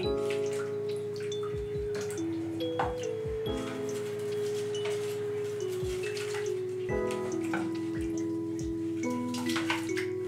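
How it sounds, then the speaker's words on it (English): Liquid caffenol coffee developer poured into a container, a continuous close trickle whose pitch slowly rises as it fills, with a few drips and splashes. "then fill your container with it."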